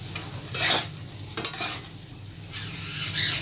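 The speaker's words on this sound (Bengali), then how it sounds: "দিয়ে এবার এটা ভালোভাবে মিশিয়ে নিতে হবে।" Vegetarian dalia pulao with ghee being stirred in a pan, giving a soft sizzle with a few louder scraping strokes of the spoon, close by and with no talking.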